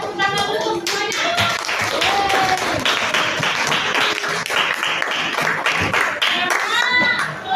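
A school class of seventh-graders applauding together, a dense, lively burst of clapping from many hands with some voices calling out over it.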